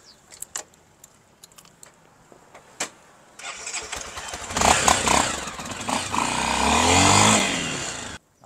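A few metallic clicks and rattles, then a motorcycle engine cranks and starts up, revving loudly and roughly for several seconds before cutting off.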